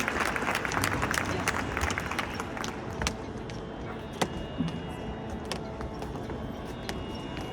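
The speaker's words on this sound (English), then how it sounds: "Please give them a big round of applause" Scattered applause from an audience at an event, fairly steady under a general room murmur, with a few sharper claps standing out toward the end.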